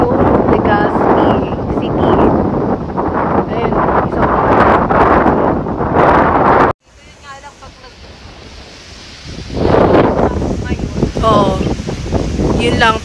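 Strong wind gusts buffet the microphone at a breezy highland viewpoint overlooking Legazpi City, a loud, steady roar with a brief dropout midway before rising again, while people talk over it.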